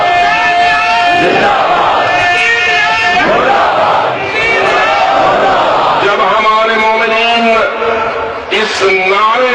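A large religious gathering loudly chants a slogan in unison, with a strong speaker's voice leading over the dense, continuous roar of the crowd.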